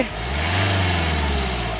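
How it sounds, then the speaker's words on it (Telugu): A 2021 Kia Sonet HTX Plus engine runs at a steady idle nearby, a smooth low hum with an even tone throughout and no voices. "ఇంజన్ యొక్క నాయిస్ చాలా స్మూత్గా అయితే ఉందండి"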